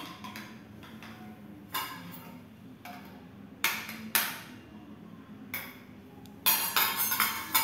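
A child plays with steel plates and bowls at home, sharp clinks and clatters arriving in irregular bursts, a few louder knocks toward the end over a quiet room.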